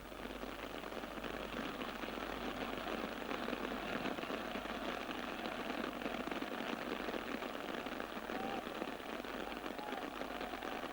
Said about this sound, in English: The rain absolutely bucketing down here at the moment.